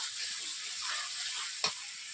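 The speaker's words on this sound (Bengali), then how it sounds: "দেখতেই পাচ্ছেন মশলা থেকে তেল ছেড়ে যাচ্ছে" Spice paste frying in oil for a potato, broccoli and carrot curry, a steady close sizzle and hiss with one brief spatula scrape near the end.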